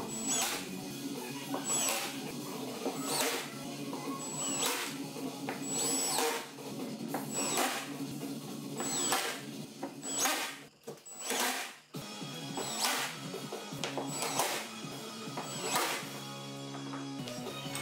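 Threaded screws are driven in one after another while assembling the sideboard of an X-Carve CNC machine, with repeated short whirring bursts from a power driver in a steady rhythm and brief clicks between them.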